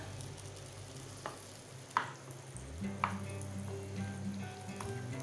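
Butter melting in a pan for butter chicken, making a soft, quiet sizzle with a few faint clinks and scrapes, then a low hum that starts partway through, with no talking.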